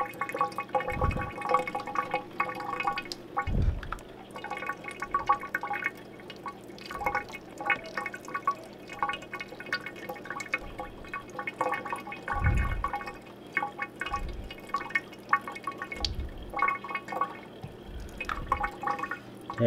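Tap water running over aquarium plant roots as they are rinsed for a planted tank, a steady close splashing stream with scattered drips and a few louder gushes, and no talking.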